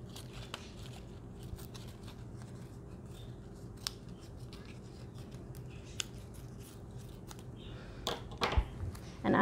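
Scissors snip through paper while cutting out a paper alligator shape, short crisp cuts spaced every second or so, close and quiet, with a few louder rustles near the end.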